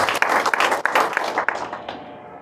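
A church congregation claps and applauds together, a dense, steady wash of hand claps with a few sharper peaks, fading out over the final second.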